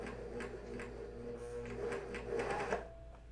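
A serger stitches lightweight underwear fabric with a steady mechanical whir and rapid rhythmic clatter, running close and continuously under a pedal worked by hand, with no voices.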